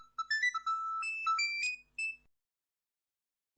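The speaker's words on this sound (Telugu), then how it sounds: "ఫోన్ వచ్చింది చూడట్లే." A mobile phone ringtone plays a bright, melodic electronic tune for about two seconds and then stops, leaving silence before a short dull knock at the very end.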